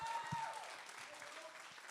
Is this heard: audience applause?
yes